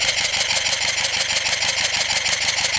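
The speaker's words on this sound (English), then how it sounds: "is my Heisler locomotive engine. Just finished it. It's running on air." A just-finished model Heisler locomotive engine running on compressed air, giving a steady, continuous hissing and chuffing mechanical run with a fast, even rhythm, close and loud, with no voices.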